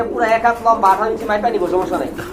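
A rose-crested Indian Mumbai pigeon coos in repeated throaty, rolling phrases, close and fairly loud, the voiced notes pulsing steadily throughout.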